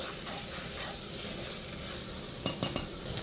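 Tomatoes and a green chili are stirred in a cooking pot over a soft, steady sizzle, with a few quick metallic clinks of the spoon against the pot near the end.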